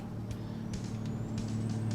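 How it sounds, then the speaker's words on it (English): A diesel truck engine fitted with 7-inch exhaust pipes drones steadily at highway speed in the American Truck Simulator game, giving a constant low rumble and a rising whine, with no one talking over it. "diesel engine with 7-inch pipes"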